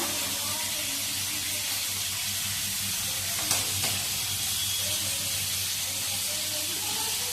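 Chilies and coriander hit hot oil in a frying pan for a cooked tangra fish dish, giving a steady, even sizzle throughout, with a soft clink partway through.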